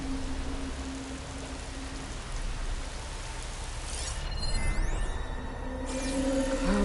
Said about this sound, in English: Clouds were heavy with this rain.